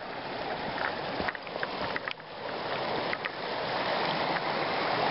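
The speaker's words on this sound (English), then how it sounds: "It's got a little brook, I guess, rushing through it." A small brook rushes steadily among fir trees in an alpine valley, a continuous close, full watery roar with no voices.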